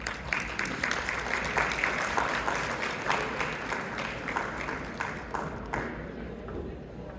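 Audience applause at an annual foundation dinner, a dense steady patter of many hands clapping through the room, tapering slightly toward the end with no voices over it.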